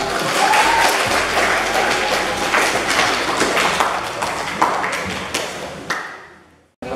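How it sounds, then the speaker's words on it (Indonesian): An audience at a business skills workshop for beginners claps in a loud, dense burst of applause with a few sharper slaps standing out, tapering away before it stops abruptly near the end. "Tepuk tangan buat kita semua"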